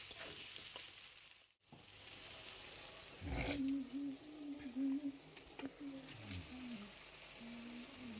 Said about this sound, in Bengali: চলো আস্তে আস্তে এটাকে লাল লাল করে ভাজতে থাকবো